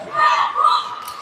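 Home fans at an ice hockey game of the Sakha (Yakutia) Republic championship in Yakutsk raise a loud, brief crowd roar of shouting and cheering that swells and then eases.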